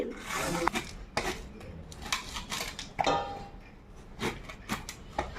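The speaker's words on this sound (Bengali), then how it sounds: "তো প্রথমে আমি কাঁঠালটা কেটে নেব। তো দেখো কিভাবে কাটছি।" A knife cuts a small, young, sticky jackfruit with no seeds yet. Close, crisp chopping strikes fall every second or so, with slicing rasps between them and no voices.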